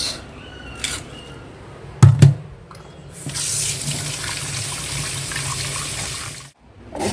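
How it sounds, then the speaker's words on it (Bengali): Tap water runs into a sink while fish are washed, a steady near splash and hiss that stops briefly near the end, with a short clatter of handling early on. "মাছ ধোয়া হয়ে গেছে"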